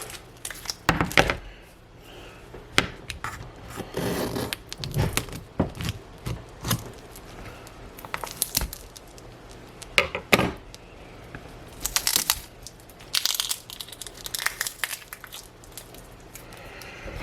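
Scraping, crinkling and sharp cracking as a tool jabs and pries at packing tape wrapped around an iPod, irregular close bursts of effort with quiet gaps between them.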